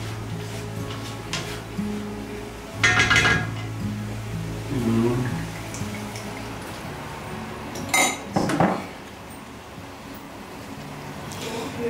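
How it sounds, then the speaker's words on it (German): Food being stirred in a metal pot, with a spoon clinking and scraping against the sides in several short bursts over a low background hum. "immer wieder umrühren."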